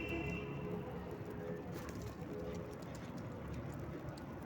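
Domestic pigeons coo in a loft, their soft throaty calls repeating over a dense, noisy background with faint chirps at the start.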